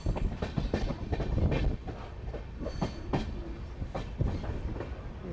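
The Amritsar-Bikaner Superfast Express runs at speed after leaving Moga, heard from on board as a continuous rumble with a regular clickety-clack of wheels over rail joints.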